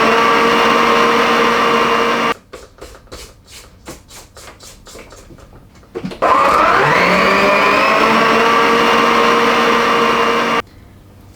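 An electric mixer beats butter and sugar for a Victoria sponge cake, whirring loudly, then sputtering in rapid pulses before rising again to a steady high whine that cuts off near the end.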